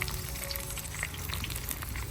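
Fish, wrapped for pollichathu, sizzles in oil in an uruli, a steady soft frying hiss with small crackles, fairly quiet and without voices.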